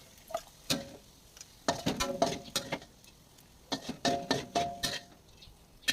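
Dry ingredients for Thai roasted chili paste, with crispy pork cracklings, rattle and scrape in a pan, giving quiet irregular clicks and stirring scuffs in short bursts against near silence.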